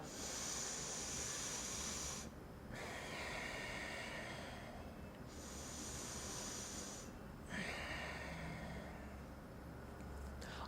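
Someone breathes in slowly through the left nostril with the right nostril gently pressed closed. The long, soft, airy hiss of each inhalation is close and quiet, broken by brief pauses.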